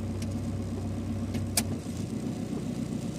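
A KIA Carnival diesel engine idles steadily, then dips slightly in pitch and load as it is shifted into drive, a continuous low hum close by with a brief clunk midway.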